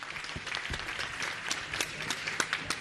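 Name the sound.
applause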